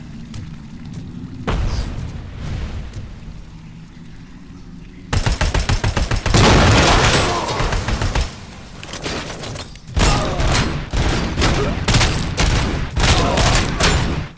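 Heavy automatic gunfire in RoboCop: Rogue City erupts in loud, dense bursts, quiet sections giving way to sustained rattling volleys with booming impacts, loud and close.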